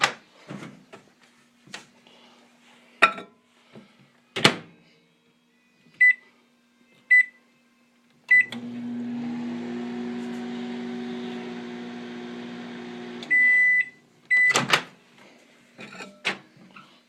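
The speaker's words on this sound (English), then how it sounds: "I'm going to stick it in the microwave for about 5 seconds to warm it up" A microwave oven warming honey hums steadily for about five seconds, bracketed by door clunks, button beeps and a closing chime, with scattered kitchen clatter before and after.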